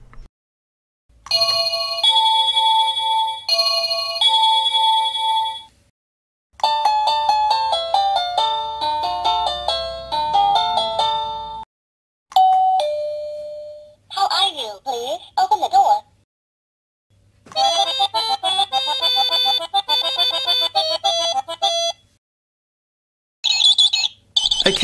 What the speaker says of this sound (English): test the doorbell so I can show the audience the different ringtones